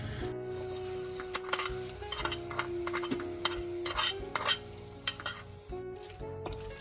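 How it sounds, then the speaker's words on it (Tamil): Fried tempering is stirred into a sizzling bitter gourd curry in a pan. A steady frying hiss runs under repeated scraping strokes of a spoon, and a soft musical backing plays throughout. "இந்த தாளினையை இந்த கறிக்கு சேர்த்து நல்லா எல்லாத்தோடையும் கலந்து விடுவோம்"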